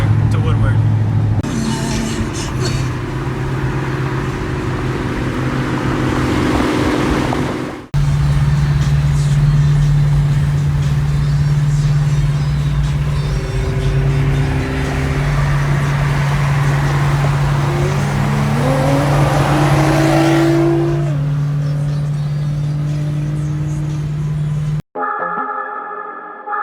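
A 1,000-horsepower Procharged C6 Corvette and a GTR with a full titanium exhaust cruise together on the road toward Woodward, a steady loud engine drone with revs rising and falling, under talk through most of the stretch.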